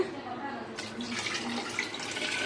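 Water poured into a pot of half-boiled rice while making biryani, a steady splashing rush that starts partway through and continues close by.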